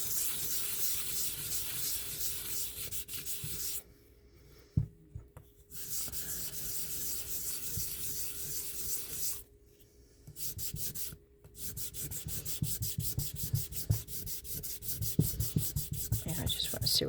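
A cast Hydrocast mold piece sanded by hand with steady, close rubbing strokes, broken by two short pauses before the scraping resumes, with no voices.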